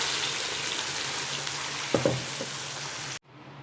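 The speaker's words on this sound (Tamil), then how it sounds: "உளுத்தம்பருப்பு கொஞ்சம், 2 சீரகம். இது கொஞ்சம் பொரியட்டும்." Urad dal and cumin seeds fry in hot oil for a mushroom gravy, giving a steady, close crackling sizzle with a couple of soft knocks before it cuts off abruptly.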